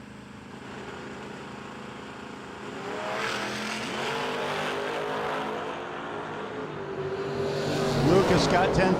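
A black Ford Mustang launches in a no-delay drag race, its engine rising from a rumble into a loud, climbing roar with a surge near the end, heard at a distance beneath a track announcer's voice.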